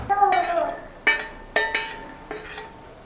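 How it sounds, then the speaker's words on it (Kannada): Niger seeds being dry-roasted in a kadai, with a spoon scraping and clinking against the metal pan in several distinct strokes, close and fairly loud with no talk. "ಇದೇ ಕಡಾಯಲ್ಲಿ ನಾನಿವಾಗ ಹುಚ್ಚೆಳ್ಳು ಹುರ್ಕೋತೀನಿ"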